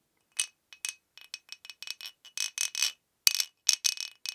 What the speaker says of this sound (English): I've got one of these clackers. I think this is from Indonesia